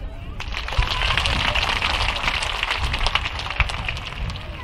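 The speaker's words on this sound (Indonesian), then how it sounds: "Tepuk tangan." Outdoor sermon congregation applauding, a dense steady patter of many hands clapping at moderate level throughout, with a few sharper claps standing out.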